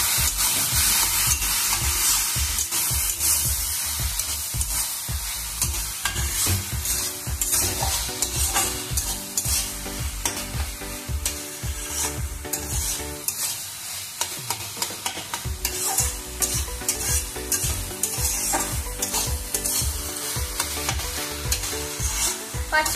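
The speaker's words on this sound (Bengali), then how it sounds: "এবার এটাকে ভালো করে মিশিয়ে নেব।" Bottle gourd ghonto with bori and a pinch of coriander powder is stirred in a frying pan, the spatula scraping in steady, repeated strokes over a constant close sizzle with no talking throughout.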